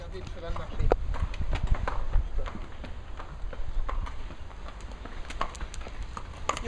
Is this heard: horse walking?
yes